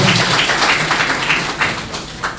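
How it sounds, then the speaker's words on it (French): Applause from the audience at the opening ceremony of a general assembly: sustained, dense clapping from many hands at a fairly loud level, continuous throughout with a few sharper claps standing out. "Merci de l'applaudir pour son engagement."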